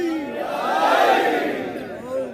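A crowd at a religious gathering in Rawalpindi shouts the slogan Haidari together in one loud, swelling collective cry that rises to a peak and then eases off.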